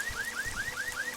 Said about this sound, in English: Okay, that was the alarm.